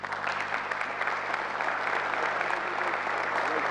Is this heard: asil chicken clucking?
no